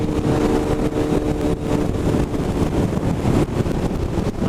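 A 900 motorcycle cruises in fifth gear on a winter road, its steady engine drone heavily buffeted by loud, continuous wind rush across the microphone.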